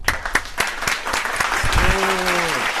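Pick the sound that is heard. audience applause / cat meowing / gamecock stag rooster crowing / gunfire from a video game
audience applause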